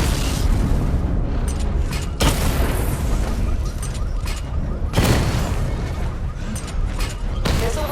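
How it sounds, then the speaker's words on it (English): Missile barrage explosions tearing through targets in Batman: Arkham Knight, a steady run of loud booms and bursts with several sharp blasts standing out over a dense rumbling bed. "Destroy targets to charge up weapon energy and activate missile barrage."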